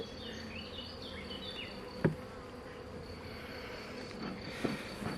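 A swarm of honeybees buzzes steadily in the open on a hot day during beekeeping work, a dense, fairly faint hum with a couple of brief nearby knocks.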